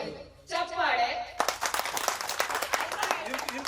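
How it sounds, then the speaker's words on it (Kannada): An audience claps at a college alumni celebration event, a burst of dense, sustained applause that follows a brief spoken announcement. "ಚಪ್ಪಾಳೆ."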